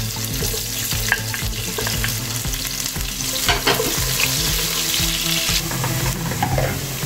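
Onions frying in a pot at the start of a yam and beef stew, a steady close sizzle with repeated stirring scrapes and knocks throughout, no talking.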